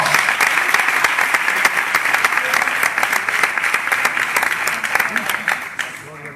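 Church congregation applauding during a Spanish-language sermon, a dense, steady clatter of many hands that carries on for several seconds before tapering off at the end, with a few shouted voices mixed into the crowd noise.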